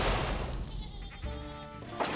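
Sheep bleating in the video game Plants vs. Zombies 2, a single wavering bleat, clear and close, alone over quiet game audio.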